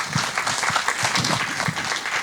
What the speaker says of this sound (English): So I'd like everyone to give a round of applause for our participants.